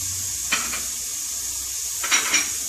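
Onions frying in a pan for aloo chop, a steady soft sizzle with two short bursts of stirring scrapes, close and fairly quiet with no talking.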